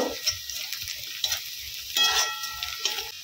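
Onions frying in a pan with chili powder being stirred, quiet scraping strokes in an uneven rhythm over a soft sizzle, close and fairly faint, no talking.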